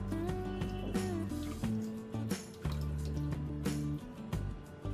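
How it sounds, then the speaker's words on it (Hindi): Water is poured into a pan spread with sugar to make syrup, a soft liquid trickle and splash under clattering kitchen sounds, moderately quiet with no talking. "चीनी डूब जाए इतना पानी डालेंगे ज़्यादा पानी हमें नहीं डालना है"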